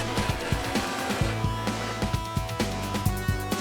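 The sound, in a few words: grinder wheel cutting travertine tile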